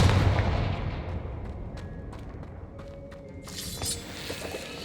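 Confringo fire spell blasts cast in the Hogwarts Legacy video game: a series of sharp, booming bursts that crackle and fade over a low rumbling background, with no talk.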